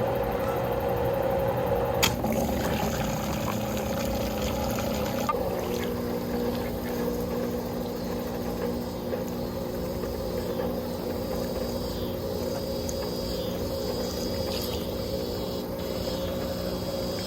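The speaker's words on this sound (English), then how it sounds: "Yeah, and you can hear the pump. It sounds like it's working." An old above-ground pool pump converted into a pond pump runs steadily outdoors, a continuous mechanical hum and drone with water bubbling nearby, loud and unbroken throughout, with no talking.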